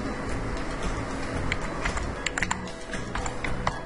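Rapid clicks of a computer keyboard typing a search query, a light irregular patter running steadily under a faint background hum.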